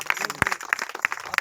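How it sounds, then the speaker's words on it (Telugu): A congregation claps at a baptism service, a brief flurry of scattered, moderately loud hand claps in a reverberant indoor space. "అందుని బట్టి చప్పట్లు కొడదాం"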